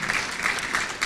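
Audience applause at a volunteer appreciation and awards celebration for a CFF Greater Illinois chapter, a steady dense patter of many hands clapping together across the whole moment.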